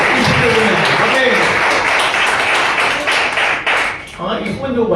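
A church congregation claps together in thanks during a Sunday worship service, a dense and steady wash of applause that fades toward the end, with voices mixed in.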